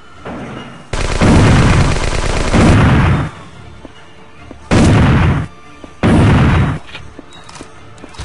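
Loud bursts of rapid gunfire in the video game Last Dance come in three volleys, a long one followed by two shorter ones, separated by brief quiet gaps.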